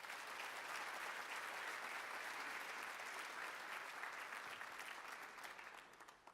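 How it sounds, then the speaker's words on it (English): An audience at an education summit applauds steadily, a dense even clapping that holds for several seconds before tapering off slightly at the end. "if you all could give them a round of applause"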